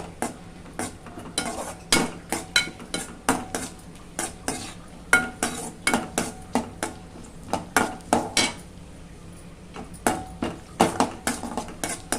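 Cashews roasting in a pan over a low flame for dal payasam, heard as a steady run of close, rhythmic spoon scrapes and clinks against the pan over a faint sizzle, with no voices.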